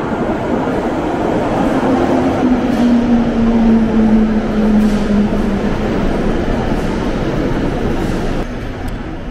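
A London Underground Metropolitan line train runs at speed, giving a loud continuous rumble with a droning tone that slowly falls in pitch, heard from inside an empty carriage.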